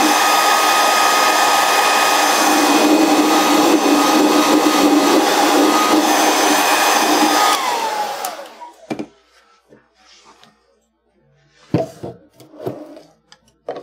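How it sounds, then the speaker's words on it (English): A hair dryer blows hot air to dry glue on leather for a rifle scabbard, a loud steady whir that cuts off partway through, followed by quiet handling noises and brief knocks. "I bet you I can dry just as fast as that hairdryer."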